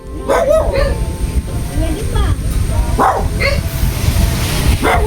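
A dog barks and yips several times at close range, with people talking over it and background noise throughout.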